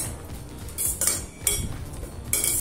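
A spoon stirs cooked black urad dal rice in a metal pan, giving a few scraping clinks and brief bright scrapes spread over a couple of seconds, fairly close and without any talk.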